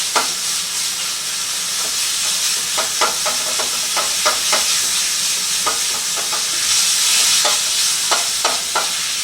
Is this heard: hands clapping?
no